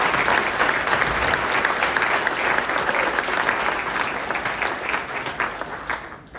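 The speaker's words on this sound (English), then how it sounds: "Let's give them a big round of applause." A crowd at a golf superintendents' awards event claps in a sustained round of applause that stays dense and even before slowly thinning out.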